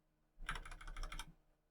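A short burst of rapid keystrokes on a computer keyboard, clicking close and clear for about a second while text is entered into a console form, then stopping, with no talk.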